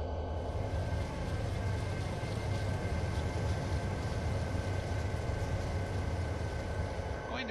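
Train from a train simulator game pulling to a stop at a signal: a steady low rumble of engine and wheels with a faint tonal whine above, even and unbroken, fairly quiet throughout.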